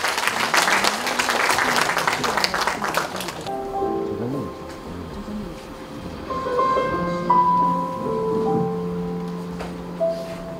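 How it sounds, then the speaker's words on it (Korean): Audience at a Korean poetry book launch applauds to welcome a poetry reciter, a dense burst of clapping that cuts off after a few seconds, followed by soft background music and a quiet room. "큰 박수로 맞아주십시오."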